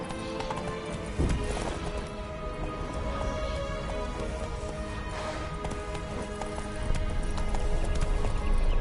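Roach the horse galloping in The Witcher 3, hooves clip-clopping in a steady rapid rhythm throughout, with a rain-like hiss underneath and an occasional faint snort.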